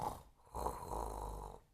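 Cartoon character Peppa Pig snores as she falls asleep, with two drawn-out, close, rumbling snore breaths separated by a brief pause.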